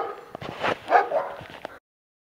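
A dog along the Camino de Finisterre walking route gives a few close, sharp barks and whiny yips over about two seconds, then goes silent.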